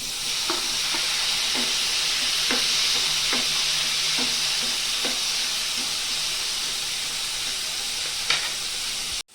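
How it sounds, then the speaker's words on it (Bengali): Paneer fries in butter in a kadai with a steady hiss and sizzle, while a spatula scrapes and taps against the pan now and then, close and clear with no voices. "আমি পনিরটা বাটার দিয়ে ভেজে নেব"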